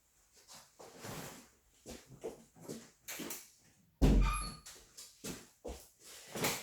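A dog gives a series of short barks and yips in an uneven rhythm, with a louder thump partway through, fairly faint overall.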